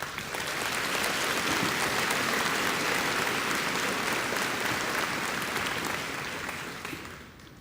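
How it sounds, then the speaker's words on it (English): Sustained, full applause from a commencement crowd honouring faculty and teachers, a dense roar of many hands clapping steadily for several seconds before fading at the end. "Please, let's give them a round of applause"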